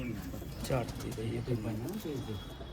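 Salara pigeons coo in soft repeated throaty calls close by on a rooftop loft, with a person talking over them.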